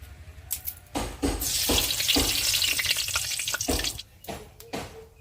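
Bay leaves drop into hot oil in a pan and set off a loud, close hiss of frying that swells and holds for several seconds, with clinks and stirring knocks scattered around it and no talking.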